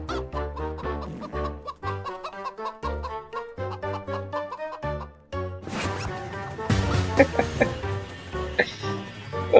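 A chicken clucks in the Roblox video game, short repeated cartoonish clucks under a bouncy game music loop, growing busier and louder toward the end.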